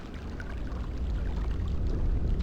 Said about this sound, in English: it's getting a sound of that water in this kind of rippling down